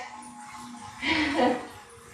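A dog gives a short whimpering yip, a brief high whine rising over quiet background noise, heard close with faint talk around it.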